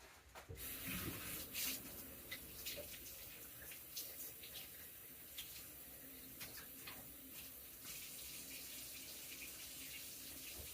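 Mushrooms being washed under running tap water for a Sunday lunch, a steady broadband rush of flowing water with small splashy surges and clatter, close and fairly quiet throughout.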